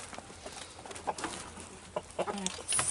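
Chickens and turkeys in a village yard give scattered clucks and short calls at moderate distance over faint outdoor background noise.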